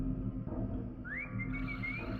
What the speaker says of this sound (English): that's the character whistling